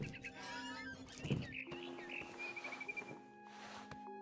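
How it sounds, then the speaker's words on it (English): A barn swallow chirps outside a window in What Remains of Edith Finch, a few short bright calls over a steady ambient game backdrop and low tonal hum. "Then I heard chirping outside my window. It was a barn swallow going back to her nest."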